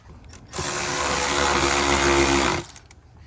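A handheld power tool runs steadily for about two seconds, driving 7 mm bolts on an intercooler and charge pipe kit being fitted to a 2025 Ford Explorer ST, loud and close with a tight mechanical whir.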